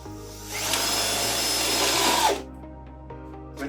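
A power drill drives galvanized self-tapping screws through a gutter guard, one steady whirring burst of about two seconds, close and loud, then it stops, leaving a low hum behind.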